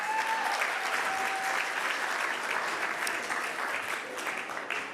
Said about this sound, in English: Ladies and gentlemen, how about one more round of applause for Senator Booker?